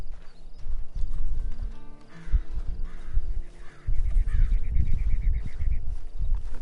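A horse in Red Dead Redemption 2 clops along in uneven hoofbeats, loud and close, with a brief whinny and low rumbling ambient game sound, no speech.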